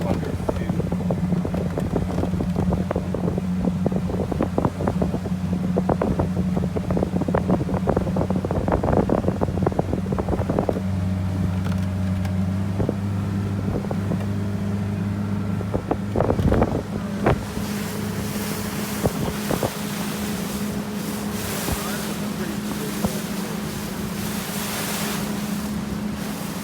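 A large multi-deck motorboat cruises on open water of the Sound off Stamford, its engine holding a steady low drone under constant wind buffeting on the microphone, with a brighter rush of water and wind building toward the end.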